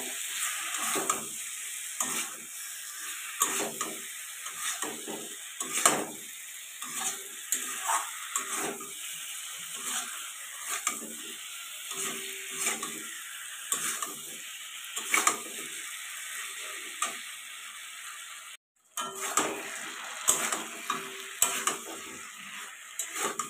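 Fried potatoes stirred with ridge gourd in a pan, a soft continuous sizzle with frequent spatula scrapes and clinks in an uneven rhythm, close and without talk, with a brief dropout midway.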